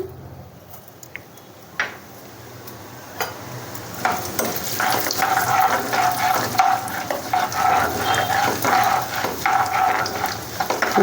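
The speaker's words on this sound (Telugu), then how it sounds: "ఆయిల్ వేడవగానే మనం ముందుగా తీసుకున్న తాలింపు పీసులు వేసుకోవాలి" Tempering spices and lentils hit hot sesame oil for gongura pachadi; a few faint taps come first, then a loud, crackling sizzle and spluttering sets in and keeps going.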